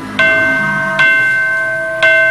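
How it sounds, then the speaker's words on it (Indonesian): A school bell rings three times at even one-second intervals, each strike loud and close with a clear ringing tone that hangs and slowly fades before the next. "Wis bel ya."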